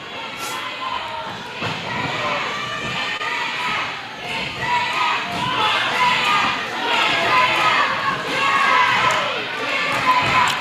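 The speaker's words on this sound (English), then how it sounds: "What is the crowd chanting?" Dense arena crowd at a professional wrestling show, steady roar of many voices with rhythmic surging swells suggesting a chant, loud and continuous throughout with scattered thuds.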